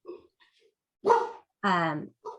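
A house dog gives a few short, close barks with pauses between them, each bark sharp and fairly loud against otherwise quiet surroundings.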